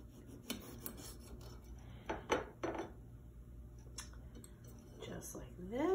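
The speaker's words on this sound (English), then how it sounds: "Okay, so I'm gonna cut this tomato." A knife slices a tomato: a few quiet rasping cuts come in short bursts, with someone talking softly around them.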